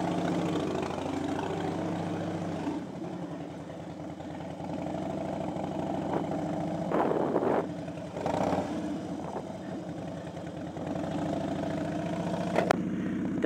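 A Harley-Davidson Dyna Glide motorcycle rumbles steadily while riding, its low engine drone continuous and close, with brief bursts of wind or passing noise.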